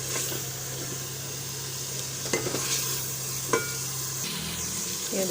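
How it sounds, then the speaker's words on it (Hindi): Chicken sizzles in a pan with whole spices and coriander seeds, a steady frying hiss broken by the scrape and clack of a spoon stirring several times. It is close and fairly loud, with no talk. "अभी चिकन को कलर चेंज करने तक अच्छी तरह इधर फ्राई करेंगे।"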